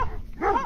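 Dogs guarding a sheepfold in Maramureș bark out in the open, a single short bark-like yelp against steady outdoor background noise.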